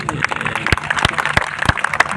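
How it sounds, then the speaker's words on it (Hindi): An audience at a kavi sammelan poetry gathering in Bikaner, Rajasthan, claps in a sparse, scattered way. Individual sharp claps stand out over a low murmur in a brief burst. "आप लोग तालियां दे दीजिए"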